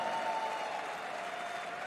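A big esports arena crowd at a Counter-Strike: Global Offensive StarLadder Major quarter-final in Berlin claps and cheers in a steady, dense wash of applause that holds loud and even throughout.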